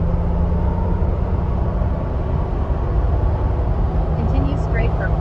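Steady, loud broadband road roar and low rumble fill the cabin of a 2021 Ford Bronco two-door hardtop cruising on the highway, constant throughout with no distinct events.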